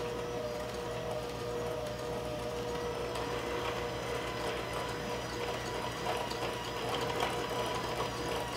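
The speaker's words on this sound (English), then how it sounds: "this mixer isn't too loud" A steady mechanical whir of an electric mixer mixing cookie dough runs continuously at low volume, with a constant motor hum and a faint rattling texture throughout.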